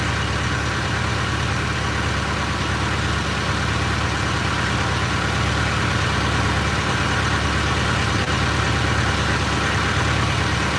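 Fishing boat engine droning steadily at high revs while trolling, loud, close and continuous throughout with no pauses.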